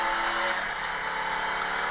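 A NASCAR Craftsman Truck Series truck pulls out of the pit lane at the Milwaukee Mile and heads back onto the track, its engine a steady, fairly distant drone with some race crowd ambience.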